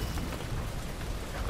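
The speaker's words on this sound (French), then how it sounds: "J'aime bien l'effet de la pluie sur la caméra." Steady rain ambience in the stealth game Dishonored, a dense, even hiss of falling rain with a low rumble underneath, continuous and fairly loud throughout with no speech.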